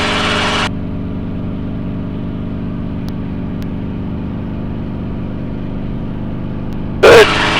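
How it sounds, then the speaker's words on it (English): A training helicopter's engine runs steadily before lifting into a hover, a loud continuous drone with a constant tonal hum, with a brief knock near the end. "Listen to the engine."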